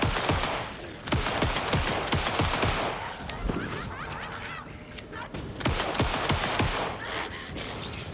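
Gunfire in the video game Alan Wake 2: rapid bursts of loud, sharp shots in quick succession, dense and continuous, over a busy game soundscape, with no talk.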